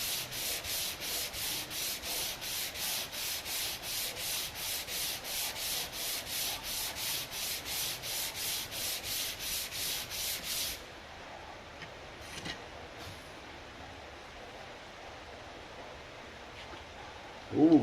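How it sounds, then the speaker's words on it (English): Hand sanding on the body of a 1925 Studebaker, about thirty steady back-and-forth rubbing strokes in an even rhythm, close and clear, that stop partway through and leave quiet room tone with a few soft knocks. "We're all sanding those other spots, but not as much"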